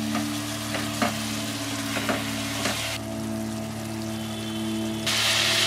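A masala of coriander and a little water cooks in a pan for cauliflower malai curry, giving a steady close sizzle with several soft scraping stirs, the hiss brightening toward the end; no talking.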